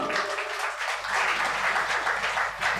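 A congregation claps in church during an anniversary festival service, a dense continuous patter of many hands echoing in the hall.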